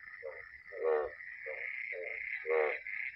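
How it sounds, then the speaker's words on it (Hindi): Frogs croak in a repeating pulsing rhythm, loud and close, over a steady high-pitched chorus of insects or distant frogs. "कितनी आवाजें आ रही हैं, ठीक है, मेंढकों की, जानवरों की"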